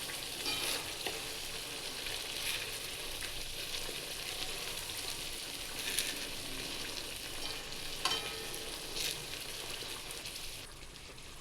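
Masala for patodi curry sautés in a pan, a faint, even frying crackle with occasional spatula scrapes and stirs, no voices present.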